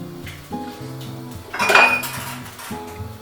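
A metal lid clanks down onto a pot of creamy mushroom soup on a kitchen stove, giving a sharp metallic clatter and clink against the rim over a steady background hum.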